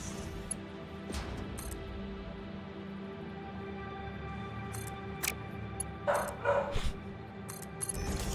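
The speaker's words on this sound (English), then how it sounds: "I think they're barking at my neighbors." Dogs barking somewhere across a house, a few short bursts and yips standing out faintly over a steady low background hum, with no one talking.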